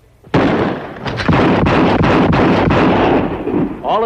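A rapid string of five rifle shots fired at a target in an outdoor shooting contest, loud, closely spaced cracks merging into a continuous burst with no speech over them.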